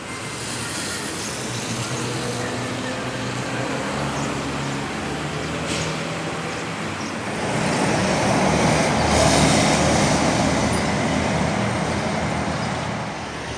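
Traffic rumbles steadily at a busy Mexico City bus station, with engines and road noise filling the space and swelling louder partway through as a vehicle passes close by.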